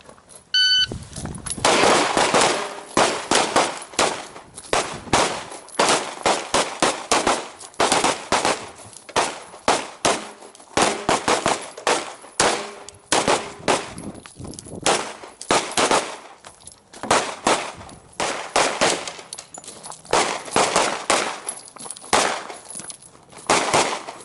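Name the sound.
pistol shots on shooting range course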